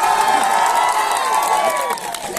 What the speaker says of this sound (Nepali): ताली बजाउनुहोस्